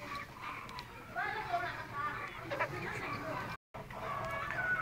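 Silver Sebright bantam chickens clucking and murmuring close by on a fancy hen farm, steady overlapping calls under a voice talking throughout.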